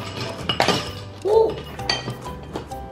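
A spoon clinks and scrapes against a glass while stirring strawberry milk, giving a few bright chinks and one ringing tap up close, with faint voice sounds in the background.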